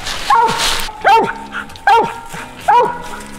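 Coon hunting dogs bark and bawl at a tree during a night hunt, giving four loud, evenly spaced howling barks close by.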